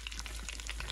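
Butter and oil sizzle in a pot while an Indian lamb curry is being made: a faint, steady crackle of fine spattering pops, close by, with no voices.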